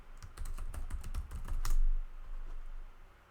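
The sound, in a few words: typing a docker command on a computer keyboard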